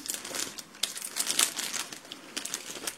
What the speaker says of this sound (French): on va ouvrir le petit packaging